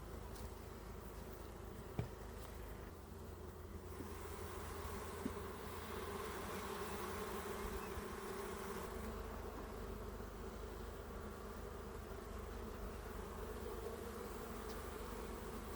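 Dense, steady buzzing of many honeybees around an open hive fills the air continuously, a close and constant drone with no voices.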